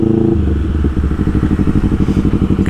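A Honda CBR250RR motorcycle on a ride, its engine running loud and close with a rapid pulsing throb and some clattering, no one speaking.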